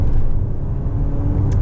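A 2025 Jaecoo J8 SUV kicking down under full throttle from about 40 km/h, a steady low engine drone and road rumble heard from inside the cabin, fairly loud and even with no clear rise in revs.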